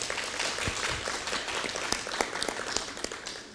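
Audience applause at a university workshop on gender violence, a steady wash of clapping from a room of people, moderately distant and even.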